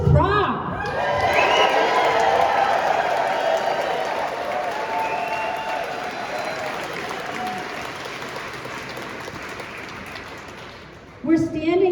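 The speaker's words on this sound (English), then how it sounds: "Look at this crowd!" A large outdoor crowd at a rally for public lands in Montana cheers, claps and shouts in a loud, sustained roar that slowly eases, with a fresh burst near the end.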